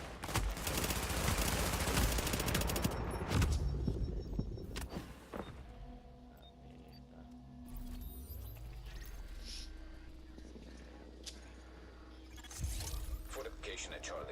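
Video game gunfire rattles in bursts as a fortification comes under attack in a shooter's last-stand mode, loud at the start and again near the end, with fainter mechanical noises and announcer-style speech between.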